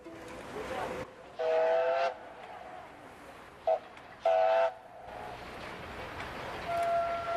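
A train rumbles past along a railway line and sounds several sharp whistle blasts: two longer ones, a short toot between them, and a fainter one near the end, all over a low rolling background.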